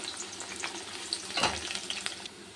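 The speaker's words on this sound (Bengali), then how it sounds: "আমি পেঁয়াজটা এরকম করেই ভেজে নেব, বেশি কড়া করব না" Onion fries lightly in a pan for chicken chaap, a soft, fairly quiet sizzle running throughout, broken by a louder stirring scrape midway and a few small clinks.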